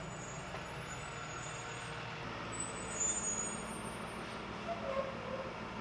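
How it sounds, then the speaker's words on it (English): A large truck pulls in out front of a house, its engine rumbling steadily at a moderate distance with brief hissy bursts that fit air brakes releasing, set against a broadband background roar. "There's like a giant truck pulling in right in front of the house right now."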